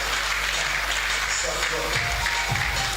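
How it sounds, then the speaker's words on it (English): Conference and awards audience applauds under loud venue noise and a low background hum, clapping steady for a few seconds, with some voices and music-like tones mixing in toward the end. "A round of applause, please."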